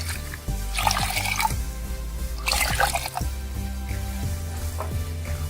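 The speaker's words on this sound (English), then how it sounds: "So we are adding about 2 cups of water here." Water poured into a pan of simmering mangodi (moong vadi) kadhi, a yogurt-based curry, with steady liquid sizzle and splashing bursts, a few drips and stirring clinks, fairly close and continuous with no talking.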